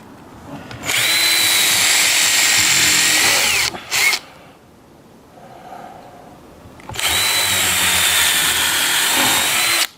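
A power drill bores holes into wood for homemade car ramps, two long loud bursts of whirring separated by a short stop and a quieter lull, close up with no talking.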